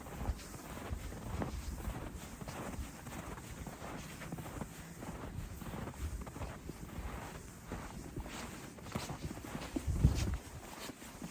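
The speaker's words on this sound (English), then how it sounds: "It is windy." Gusty wind buffets the microphone in a low rumble outdoors on a homestead near woods, with scattered footsteps or hoof-like clops and a louder thump near the end.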